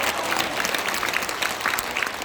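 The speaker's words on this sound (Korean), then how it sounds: "고성국 박사님께도 감사의 박수를 보내주시기 바랍니다" An audience at a launch rally of a YouTube alliance claps in thanks, a dense, loud, continuous wash of many hands with no pause.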